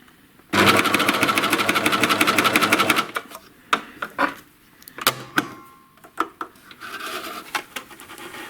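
A coverstitch sewing machine stitches belt loops in a loud rapid mechanical whir for about two and a half seconds, followed by scattered handling clicks and fabric rustles.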